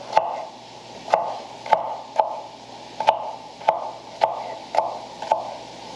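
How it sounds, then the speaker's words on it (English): A knife chops potatoes into chunks on a cutting board, about ten sharp, fairly regular strikes over a steady low background hum, close and clear with no talking. "Oh, see, those come out in nice little chunks. Perfect. Cutting those up."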